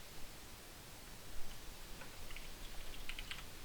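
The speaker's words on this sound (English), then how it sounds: "that's why you hear all my typing" Typing on a Razer keyboard: faint, rapid key clicks under steady background hiss, growing slightly busier toward the end.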